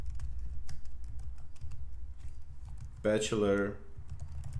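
Soft, rapid clicking of a computer keyboard being typed on runs steadily in the background while a person speaks briefly over it.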